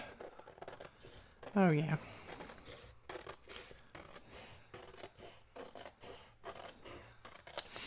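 Scissors trim a piece of old magazine paper for a collage board, one crisp, close snipping cut amid soft paper rustling, with someone speaking quietly around it.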